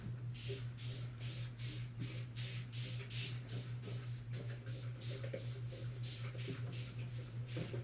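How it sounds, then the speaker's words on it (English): A handheld spray bottle misting water onto a pet reptile in its tank: a long series of short, breathy spritzes in a quick, fairly regular rhythm, close but soft, over a steady low hum. "I'm going to give him a little spritz, too."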